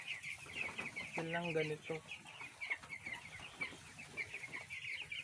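Chickens on a poultry farm cluck and chatter continuously, close by with short repeated calls. Someone speaks briefly over the birds.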